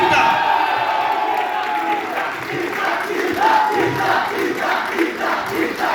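A crowd at a film cast and crew promotional event shouts and cheers loudly and continuously, with whoops rising over a dense, steady roar.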